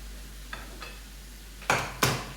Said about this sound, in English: I'm going to add my carrot slices now